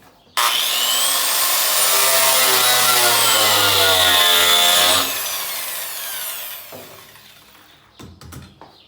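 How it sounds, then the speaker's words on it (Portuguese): A small hand pipe saw finishes a cut through plastic pipe for a low-cost fruit-tree pot, giving a loud, sustained rasping scrape with a whining edge for several seconds, then softer strokes and a few scattered knocks. "eu vou pegar uma serrinha agora de cano e vou vir aqui com a mão e terminar o corte"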